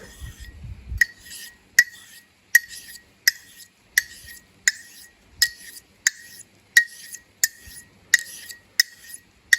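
A straight razor honed on an Arkansas whetstone, crisp scraping strokes in a steady even rhythm, about a dozen in a row, close and clear against near silence.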